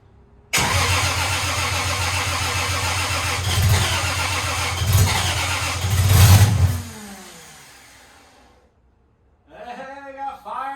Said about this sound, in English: Let's try to start her for the first time.